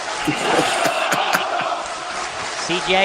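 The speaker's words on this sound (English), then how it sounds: "Listen to the crowd." A wrestling crowd in an arena shouts and cheers in a dense, rowdy mass, with sharp claps and cries cutting through and a voice calling out over it.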